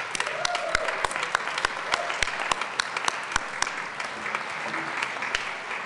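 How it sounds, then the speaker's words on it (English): Lawmakers in the Colorado House chamber applaud, steady clapping with distinct sharp hand claps standing out nearby over the broader crowd noise. "Let's please give him a round of applause."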